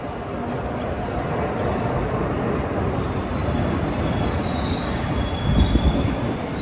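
Steady rumbling roar of a train running on rails, heard from inside, with faint wheel squeal and a heavier clatter near the end.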